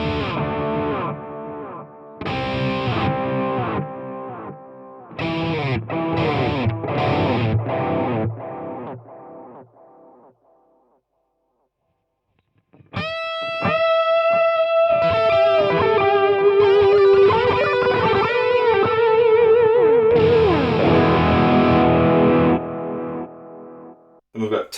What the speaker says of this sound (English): You've got a lo-fi delay, which is similar to the analog delay, but it's adding like a mild distortion to the actual signal.